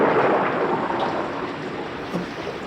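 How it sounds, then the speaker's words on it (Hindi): Heavy rain pours in a dense, even hiss mixed with low rumbling thunder, loud and continuous throughout with no voices. "तुम देख तो रही हो कि बारिश हो रही है।"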